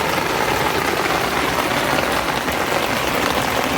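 Steady rain pours across a rooftop garden in Dhaka, a dense, even hiss of drops on plants and surfaces that fills the whole stretch without a break, loud and close, with no voices.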